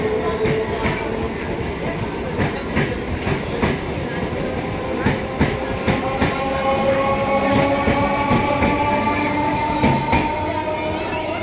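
A train rumbles steadily at Baghajatin station, with continuous wheel noise, occasional rail clacks and faint squeals, close and loud with no break.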